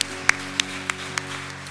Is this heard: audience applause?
yes